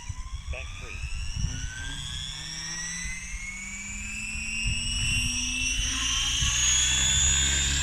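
A radio-controlled helicopter spools up for takeoff, its rising rotor whine and engine pitch climbing steadily and growing louder over several seconds, close by and continuous, with a few brief knocks at the start.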